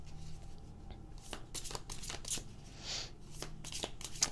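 Tarot cards shuffled and drawn by hand, a quiet run of soft riffling flicks and papery slides, close and faint, with no talking.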